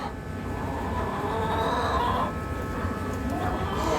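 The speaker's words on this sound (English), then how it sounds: "So we have a bunch of black astrolorp in our chicken coop." Black Australorp chickens cluck inside a chicken coop, a steady dense chorus of hen calls with a brief higher crowing-like note, continuous and fairly loud.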